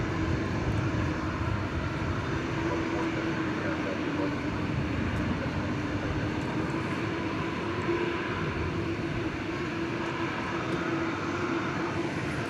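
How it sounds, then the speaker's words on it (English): Turkish Airlines Dreamliner jet passing at DFW Airport at night, a continuous broad engine rumble with a steady drone, talking heard over it. "There goes the Turkish Dreamliner"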